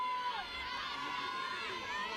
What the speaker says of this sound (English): It's pretty cool hearing the crowds go back and forth,